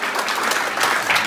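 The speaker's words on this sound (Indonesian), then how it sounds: "tepuk tangan untuk kita semuanya" Seated audience at a business motivation seminar in Indonesia applauding together, steady full clapping throughout the short moment.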